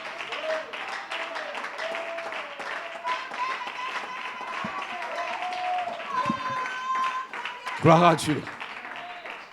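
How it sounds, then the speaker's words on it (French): A church congregation claps and cheers during a sermon, with steady applause running under a preacher's loud speech and a brief louder shout near the end. "Une main d'acclamation"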